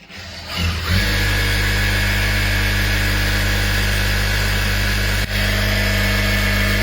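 Pedal-operated yarn winding machine spinning a bobbin, starting up and settling into a loud, steady motor-like whir with a constant low hum, briefly dipping once before resuming; no one speaks.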